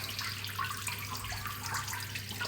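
Water streams out of the tanks of a paludarium drip system, with pumps running, as a steady trickling splash over a low hum, continuous and even with no voices.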